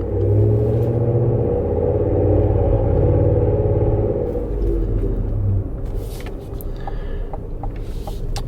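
A Cadillac Escalade fitted with a Corsa Sport exhaust cruises along, giving a steady low rumble from inside the cabin that eases slightly toward the end, with faint clicks over it.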